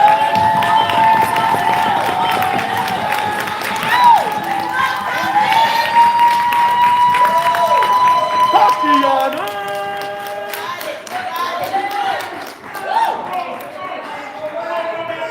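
At a poetry slam festival in downtown Las Vegas, the crowd keeps up its clapping and cheering, with shouts and a voice rising above the noise throughout the long stretch.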